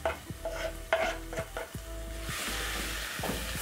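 Softened onions and tomatoes stirred in a pot, a spoon scraping and clacking a few times, then a rising sizzle that grows steady and louder toward the end, light music behind.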